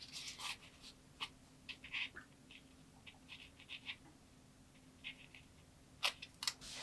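Small scissors snip fabric ends while making a miniature Barbie dollhouse sofa, giving a series of quiet, sharp, irregular clicks and cuts close up against a soft background hum.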